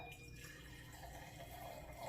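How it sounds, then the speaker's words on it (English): Sutter Home rosé wine poured into a glass for a summer cocktail, a steady quiet liquid stream and trickle running continuously with no talk over it. "I'm going to pour some champagne, some wine, and we're going to do the Sutter Homes Rosé."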